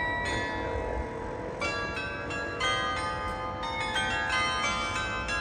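An hourly clock bell near a hotel in the Netherlands rings out strike after strike like a temple bell, each leaving a long resonant hum, heard from a distance over steady background noise.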